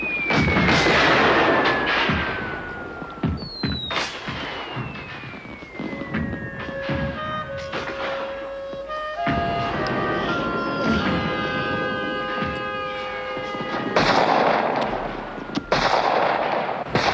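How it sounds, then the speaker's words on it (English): Heavy booms of cannon fire thud amid whistling, descending tones and a steady roar, the blasts loud and close, repeating through the scene. "Now, Princess, fire the cannons."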